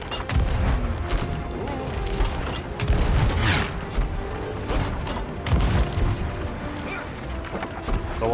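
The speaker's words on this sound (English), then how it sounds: "Climb into cannon." Heavy cannon booms from the pirate game Sea of Thieves, three big blasts spaced a few seconds apart over a constant rumble of ship and sea ambience.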